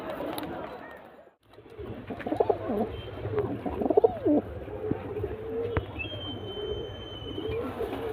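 Pigeons, including a breeding pair, cooing in a loft at Khidirpur, with soft, low, repeated coos close by over a murmuring background and a brief lull near the start.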